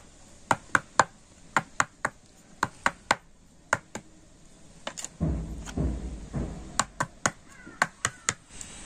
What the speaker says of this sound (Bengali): আর এবার আমি প্রত্যেকটা বাটি একটু ঠুকে ব্যাটারটা সেট করে নেব